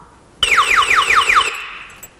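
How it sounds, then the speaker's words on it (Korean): A product's anti-theft alarm, which fixed at maximum volume goes off when the item is tilted past 45 degrees or carried away, blares a loud, piercing siren. It repeats five quick falling sweeps for about a second, then stops abruptly. "이 경보음은 볼륨 조정이 안 되게끔 설계되어 있어서 무조건 최대치로 음량이 나타나기 때문에 도난 방지에 좀 효과적입니다"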